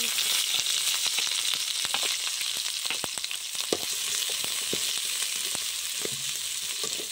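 Ingredients for a prawn curry sauté in a pan before tomatoes go in, an even, dense sizzle with scattered small pops and crackles throughout, close and unbroken.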